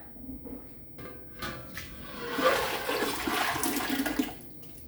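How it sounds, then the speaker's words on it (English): Milled tomato sauce is poured from a container into a large stock pot while canning spaghetti sauce, giving a wet, gushing pour with soft clunks of the container and pot. "I'm going to transfer this into my large stock pot"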